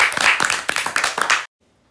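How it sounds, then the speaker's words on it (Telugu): A small group clapping their hands together in quick, uneven bursts, close and lively for about a second and a half before stopping abruptly into silence. "క్లాప్స్ కొట్టండి కొట్టండి."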